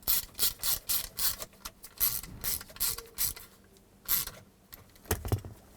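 Phillips head screws being driven by hand into a replacement 4WD switch on a 2008-2010 Ford F-250, giving a run of close, rhythmic ratcheting clicks in bursts with short pauses and no talk.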